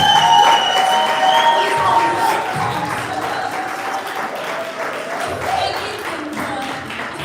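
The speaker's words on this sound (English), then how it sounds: "Let's give Mr. Potts a round of applause." A crowd claps and cheers loudly at an agri-tech launch event, sustained applause with shouts mixed in, filling a large space.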